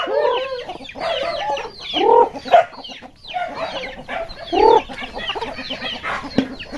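Several chickens cluck and squawk close by in a busy, irregular chorus, with louder calls standing out now and then.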